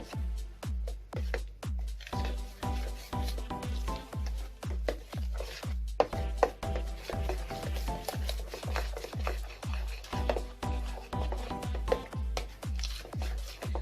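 A utensil knocks and scrapes rhythmically against a bowl, steady repeated strokes close by, mixing ingredients for a zucchini breakfast spread with no talking.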